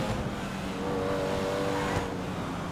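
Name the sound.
sports car engine revving, from a video game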